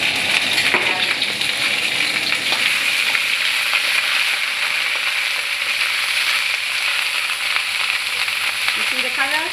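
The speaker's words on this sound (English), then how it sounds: "So first we add the chili paste" Chili paste for Thai beans with prawns fries in a hot pan, a loud, dense, continuous sizzle heard up close with faint crackles running through it.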